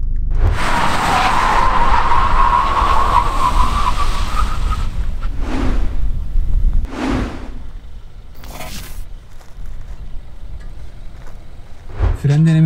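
A BMW 320i F30 and a Mercedes-Benz C180 W205 brake hard at a drag race, with a loud rushing tire skid fading over several seconds, then quieter passes and someone talking.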